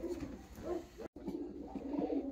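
Fancy show pigeons coo in soft, repeated low rolling calls, close and steady, with a momentary dropout partway through.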